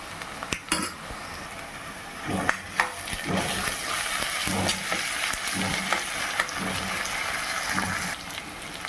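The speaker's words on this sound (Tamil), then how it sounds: "இஞ்சி பூண்டு வதங்கின பிறகு தக்காளி சேர்த்துருவோங்க" Ginger garlic paste crackles and sizzles steadily as it fries in a pan for banana flower kurma, with occasional scraping and clinks of a utensil stirring.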